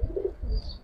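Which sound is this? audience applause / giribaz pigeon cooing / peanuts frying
giribaz pigeon cooing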